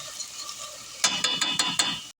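Minced garlic being stirred around in a cooking pot for beef chili, a short run of five or six close, scraping utensil strokes against the pot in a steady rhythm with no talking.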